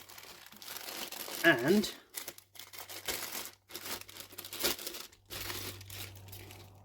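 Plastic bags holding 1/72 P-40 Warhawk model kit parts crinkle and crumple up close in bursts of loud rustling, with someone talking over and between the handling.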